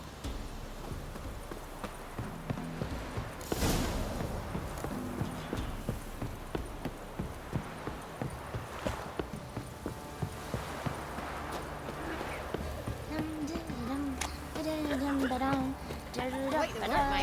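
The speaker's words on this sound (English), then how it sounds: "Whoa there, Roach." Horse hooves clip-clop at a steady walking rhythm in The Witcher 3: Wild Hunt, continuing under game music and voices talking over much of the stretch.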